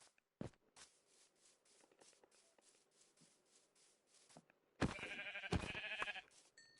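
Several soft Minecraft sheep bleats over quiet rustling, followed by a louder burst of busy clattering noise near the end.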